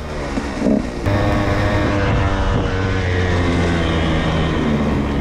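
A KTM 150 motocross bike engine holds a steady, loud droning note during wheelie practice on an old motocross track, with a brief blip before it settles into a sustained buzz.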